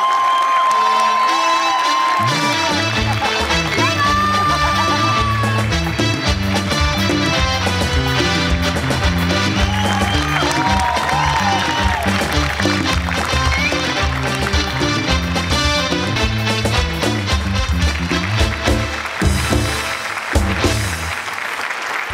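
Studio audience at a Marathi comedy show, Maharashtrachi Hasyajatra, applauding and cheering steadily and loudly throughout, mixed with music and scattered whoops.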